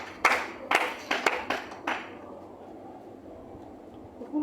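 A church congregation claps in a short burst of about six loud, sharp claps over the first two seconds, then falls away to a quiet room hum.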